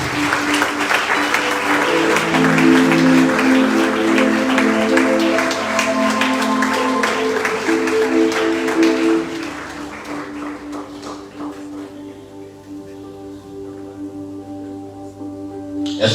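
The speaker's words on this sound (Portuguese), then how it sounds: "Aplauda para a glória do Senhor" Church congregation applauds during a sermon, lively clapping over sustained musical tones, then the clapping fades while soft music lingers.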